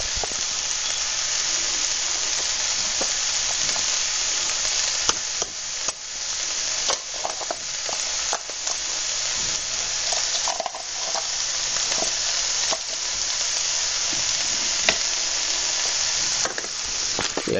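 Eggplant frying in a pan just after coconut milk is poured in gives a loud, continuous sizzle and hiss, broken by scrapes and clicks of stirring throughout.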